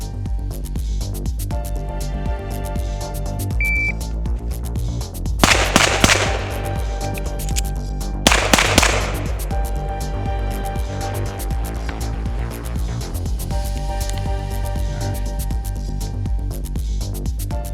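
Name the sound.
timer beep then pistol shots and reload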